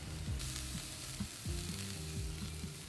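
Carne asada meat sizzling steadily on a grill, a continuous crackling fry with soft low rumbling underneath, close and moderately quiet, no voices.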